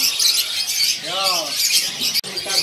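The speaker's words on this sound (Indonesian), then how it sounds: "Cucak wilis" Cucak wilis songbirds caged at a bird kiosk give a short harmonic call amid steady background chirping and market noise, with a sharp click near the end.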